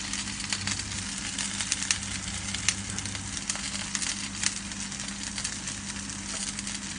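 Onion bhajis fry in hot oil, giving a dense, steady sizzle and crackle with scattered tiny pops throughout, close and continuous with no talking.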